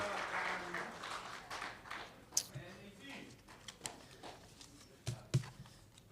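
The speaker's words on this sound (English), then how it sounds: "Big round of applause again for Mr. Del Duca." An audience at a veterans hall of fame ceremony gives a round of applause, a dense patter of clapping that thins out as a speaker talks over it.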